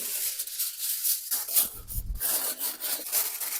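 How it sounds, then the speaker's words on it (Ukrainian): Aluminium foil crinkles and rustles as it is pressed over a baking dish of cabbage rolls with apples, a continuous close, papery scraping texture with a brief duller thump midway. "Накриваю форму фольгою."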